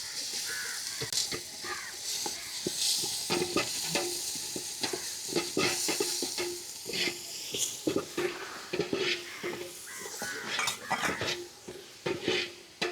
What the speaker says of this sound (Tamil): இப்போ இஞ்சி பூண்டு போட போகிறோம்.